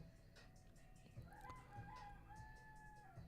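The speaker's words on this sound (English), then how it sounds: "the roosters are crowing." Roosters crow in the background, several drawn-out calls overlapping at a distance, faint against a low steady hum.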